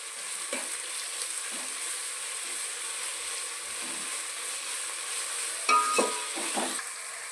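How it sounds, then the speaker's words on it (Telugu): Ginger garlic paste frying in a pan for chicken pulao, a steady close sizzle with a few light utensil clinks toward the end and no talking. "అల్లం వెల్లుల్లిపాయ పేస్ట్ వేసుకుందామండి. పచ్చి వాసన పోయేంత వరకు వేయించుకుందాము."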